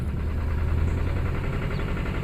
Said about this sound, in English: Oh, she's running. See if I can keep her idling.